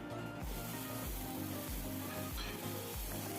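Chopped onion and tomato hit hot oil with tempered spices for a Tamil salna, giving a loud, steady close-up sizzle broken by a few soft stirring thumps.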